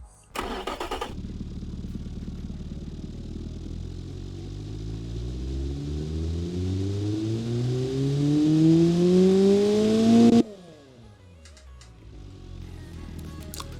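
A Fiat 128 Super Europa engine in the BeamNG.drive driving game starts, then revs steadily higher with a rising whine before cutting back abruptly to a lower idle.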